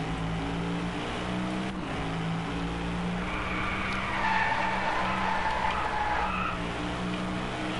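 A car skids around with squealing tyres in the Driveclub racing game, the engine droning steadily beneath a long screech that swells toward the end, with no voices.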